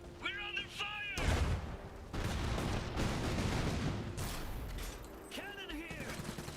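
Bursts of gunfire and artillery in an Iron Harvest video game battle, a dense loud barrage of shots and booms lasting several seconds, with game voice lines and tonal unit chatter before and after.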